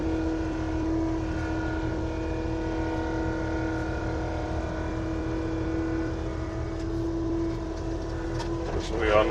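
Bulldozer driving and levelling ground inside a trench, a steady droning diesel engine rumble with a constant tonal hum, close and loud throughout with slight shifts near the end.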